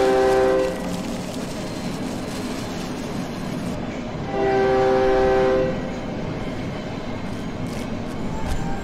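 A train rolls past in the horror video game Cry of Fear, a loud steady rumble of wheels and carriages with two long, droning horn blasts rising above it, no voices.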